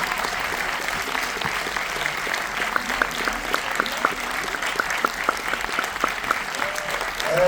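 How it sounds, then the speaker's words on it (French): An audience at a movie premiere claps steadily and fairly loudly for several seconds, a dense, even patter of many hands. "Accompagnez-les de vos applaudissements"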